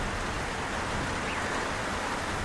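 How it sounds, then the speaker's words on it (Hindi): Heavy rain in an animated story pours down as a dense, steady hiss, loud and unbroken from start to finish with no voices over it. "सब मिलकर तेज बारिश शुरू कर देते हैं।"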